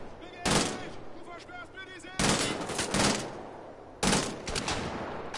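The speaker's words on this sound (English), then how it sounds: "The three-shot burst actually can be helpful when taking down, getting multiple shots into a bigger threat." Three loud bursts of rapid gunfire from a three-shot burst weapon in the video game Wolfenstein: The Old Blood, evenly spaced about two seconds apart, with game voices faintly underneath.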